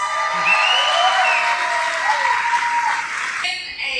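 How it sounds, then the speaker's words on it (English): Audience applause with some cheering at a World's Toughest Mudder 2024 awards gathering, steady clapping for about three seconds that thins out near the end, with a faint whistle-like tone over it. "I think that deserves a round of applause."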